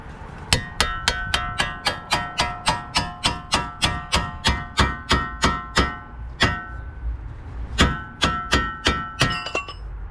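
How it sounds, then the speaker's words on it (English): Sledgehammer striking a separation fork wedged at a tie rod end on a 2003-2007 Infiniti G35, with over twenty sharp metallic blows in a fast, steady rhythm, a brief pause, then a few more hits, loud and close. "So I'm gonna get a separation fork and we're gonna kind of squeeze it in here, right there, and get a sledgehammer"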